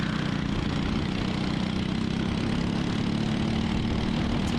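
A racing kart engine with a new engine and new tires at a 206 Senior Medium race drones steadily and continuously, close and fairly loud with no speech.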